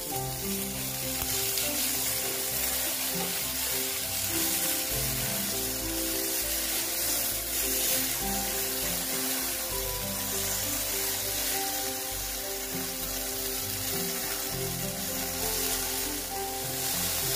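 Salted okra sizzling in a pan for a vegetarian dish, a loud, continuous crackling fry with occasional stirring noises and no voices.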